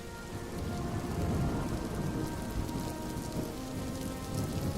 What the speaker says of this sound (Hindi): बाहर बहुत खतरा है, बारिश भी हो रही है